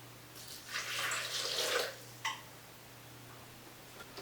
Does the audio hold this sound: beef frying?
no